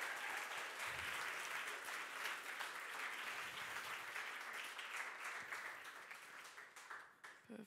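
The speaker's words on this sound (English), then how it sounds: "Big round of applause for the two." An audience applauds two presenters at a startup demo day livestream, giving a fairly faint, continuous wash of many hands clapping that tapers off slightly near the end.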